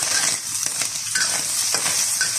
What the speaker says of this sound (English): we're just cooking out that ginger and garlic now